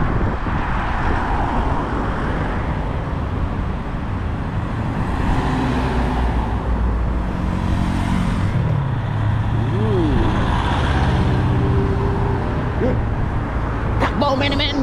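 Fast cars sweep past on a road in the Cayman Islands, a steady broadband rush of tyre and engine noise with a few passing whooshes over about fifteen seconds, and some voice sounds faintly underneath.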